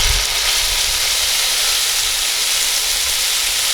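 Pot roast searing in bacon grease inside a Dutch oven cooked outdoors, a loud, steady, bright sizzle and hiss that runs continuously without talk.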